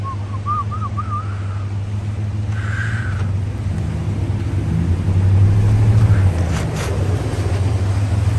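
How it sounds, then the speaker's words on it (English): A big Ram pickup truck driving off-road on a mountain trail: a steady, close, low engine drone with wind rumble that swells louder midway, plus a few brief whistling tones at the start. "here comes my brother in the big Ram"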